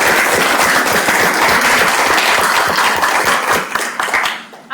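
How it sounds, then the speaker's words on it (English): Audience at a diplomacy and leadership event applauds a former U.S. ambassador, close and loud dense clapping that tapers off over the last second. "Can you give a round of applause?"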